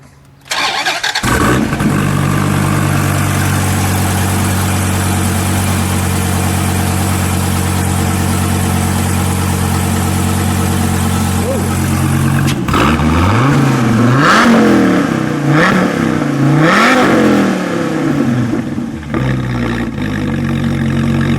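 A 2013 Dodge SRT Viper GTS V10 cranks and fires up, settles into a loud, steady rumbling idle, then is blipped through a series of sharp revs that rise and fall, heard close and alone.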